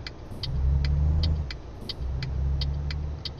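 Truck engine in the Euro Truck Simulator 2 driving game, a steady low drone that swells in two long pulses, loud and close, with regular ticking clicks over it and no talk.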